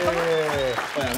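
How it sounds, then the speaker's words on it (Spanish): Studio audience applause greets a CEO guest walking onto a talk-show set, a brief burst of clapping mixed with a voice and tonal music. "Así que saludamos y recibimos con un fuerte aplauso al CEO de Wise Innovation Studios, Igal Weit"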